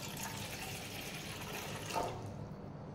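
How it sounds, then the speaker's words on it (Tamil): Half a tumbler of water is poured into a pan sitting on a stove, a steady soft rushing splash that lasts about two seconds before it tails off into quiet. "இதில் இப்போ நம்ம ஒரு அரை டம்ளர் அளவுக்கு தண்ணியை ஊற்றுறோம்."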